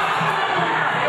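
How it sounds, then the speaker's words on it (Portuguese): Football supporters at an Internacional de Limeira versus Itapirense match give a muted protest at the final whistle, a dense steady wash of distant crowd noise in the stands. "Fim de jogo e um protesto tímido da torcida"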